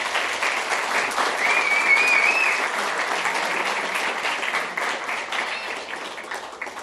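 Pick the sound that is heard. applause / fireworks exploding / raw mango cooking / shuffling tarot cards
applause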